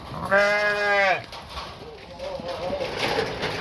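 A goat herded in a forest grazing area gives one loud, close bleat lasting under a second, followed by quieter rustling and faint background bird and animal sounds.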